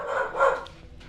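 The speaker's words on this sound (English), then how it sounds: "What is she barking at?" A dog in a Battlestar Galactica scattered-fleet game session, a short yipping bark or two, mid-loud and close, with faint background sound trailing off.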